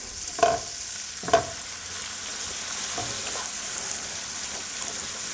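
Chopped parsley stirred into a clam sauce in a pan for linguine, two spoon scrapes at the start over a constant close sizzle that carries on to the end.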